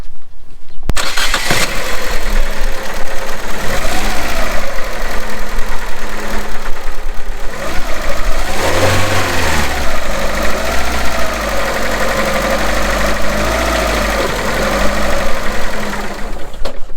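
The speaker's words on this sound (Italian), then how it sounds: "come agisce un motore senza il tirante di reazione inferiore" A Fiat Panda engine running without its lower engine mount starts and runs loudly up close, with a rough, uneven rumble and knocking that sways in pitch as it idles.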